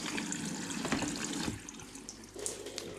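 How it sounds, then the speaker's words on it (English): Water rushes steadily into a washing machine detergent drawer, a continuous splashing hiss that eases after about a second and a half, then swells briefly again. "So now we've got water going into the drawer. I can hear it."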